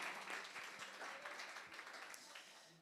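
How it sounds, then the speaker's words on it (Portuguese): Church congregation clapping at a couples' service, a quiet, even patter of many hands that stays steady and fairly distant for the whole stretch, with a faint voice underneath. "Salva de palmas."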